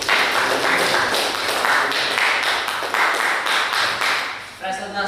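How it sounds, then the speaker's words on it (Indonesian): A class of students claps for two presenters, a lively burst of many hands with uneven rhythmic pulses that tapers off near the end before a voice begins speaking. "Tepuk tangan untuk keduanya."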